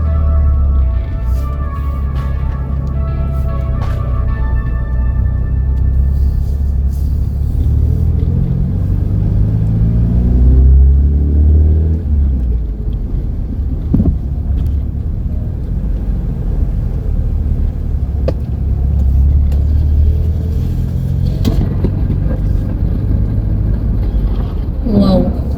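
Car engine idling and revving while still out of gear, a deep, loud rumble that swells and eases in drawn-out pulls for nearly half a minute, with someone talking over it at times.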